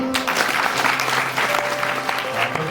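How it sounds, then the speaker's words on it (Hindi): Guests at a wedding ceremony applaud, a busy, steady patter of many hands clapping at close range, with a low hum and faint murmurs beneath. "ताली बजाएंगे"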